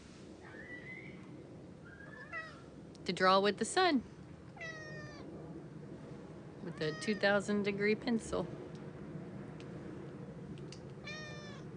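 A cat meowing close by beneath an iPad, several distinct rising meows in two bursts while someone talks over a quiet background hum.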